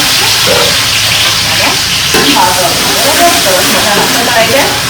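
Carrots and peas sizzle and hiss in a hot pan as they are sautéed for carrot-pea rice, a steady loud frying crackle with some stirring clatter.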